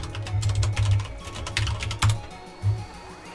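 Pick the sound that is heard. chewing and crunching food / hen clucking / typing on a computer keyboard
typing on a computer keyboard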